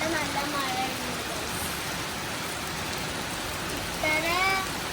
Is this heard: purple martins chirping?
no